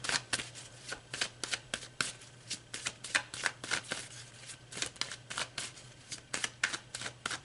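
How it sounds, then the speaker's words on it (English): A deck of tarot cards is shuffled close up in quick rhythmic riffles, each a crisp papery flutter repeating steadily and alone. "So let's pull another card."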